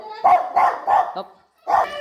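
A dog barks four times nearby, loud and sharp, with a brief pause before the last bark.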